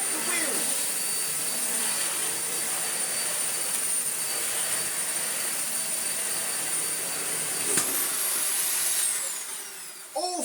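A Dyson vacuum cleaner, freshly cleaned out and unclogged with washed filters, runs with a steady broadband whine and rush of airflow, loud and continuous before a brief change near the end.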